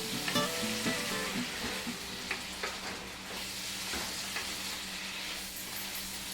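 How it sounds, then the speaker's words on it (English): Pancit ingredients, including onion, sautéing in a pan, giving a steady close sizzle and frying hiss with occasional stirring scrapes and clinks, and no voices. "So everything needs to be sauteed together."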